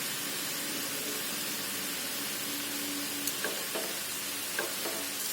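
Veg momo stuffing with soy sauce and tomato ketchup being mixed in a pan over a steady, faint frying hiss, with a few quiet utensil taps near the end.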